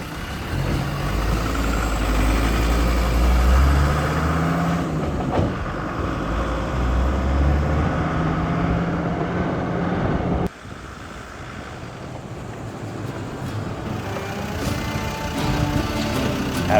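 A 2000 Land Rover Defender 110 TDI diesel engine idling, a steady low rumble heard close by under wind buffeting the microphone, dropping a little in level partway through.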